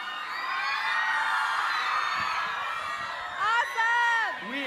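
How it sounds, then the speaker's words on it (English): A crowd at YouTube FanFest Singapore 2014 cheers and screams for Bethany Mota in a sustained, high-pitched roar, with louder whoops rising near the end. "Give a round of applause to Bethany Mota."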